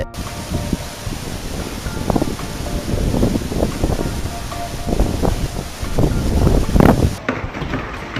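Strong wind gusts blow hard against a microphone outdoors near a waterfall in Maharashtra, a continuous loud roaring buffet with rising and falling surges and no speech.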